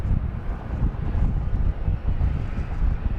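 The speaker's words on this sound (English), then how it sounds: "as we look out over the garage and find it going into the air over there" A departing airliner at Dallas Love Field makes a broad, distant roar mixed with wind buffeting on the microphone. The sound stays steady throughout, and nobody speaks.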